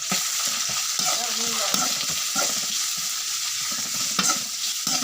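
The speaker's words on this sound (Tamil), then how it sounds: "வெங்காயம் போட்டு கிளறி விடணும்." Onions frying in a pan, a loud continuous sizzle with a spatula scraping and stirring through them in repeated strokes, close and steady.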